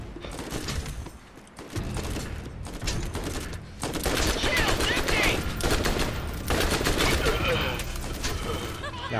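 Gunfire in the video game Borderlands: dense, rapid automatic bursts and overlapping shots that run almost without pause and grow heavier midway, with a voice faintly mixed underneath.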